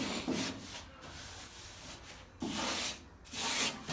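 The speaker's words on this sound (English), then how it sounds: "then we'll do some more sanding" Cured fiberglass on a Fox Body race car part is sanded by hand, rough rasping strokes coming in bursts with short pauses between them, close up and without talk.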